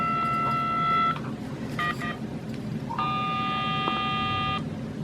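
Steady electronic tones from an old telephone converted into a Morse code (CW) oscillator. Sustained buzzy beeps come on and off in separate keyed bursts over a noisy background hum, with no talk.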